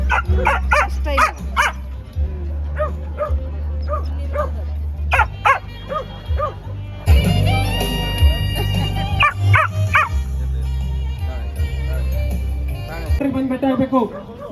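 Dogs bark and yip at a dog and cat show, short sharp barks recurring amid loud crowd chatter and talk nearby, with a busy, noisy indoor-event backdrop.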